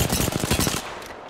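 A rapid burst of automatic gunfire in Apex Legends, about ten close, loud shots in quick rhythm that cut off abruptly, leaving a short fading tail.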